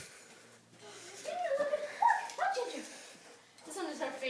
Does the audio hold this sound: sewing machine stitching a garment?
no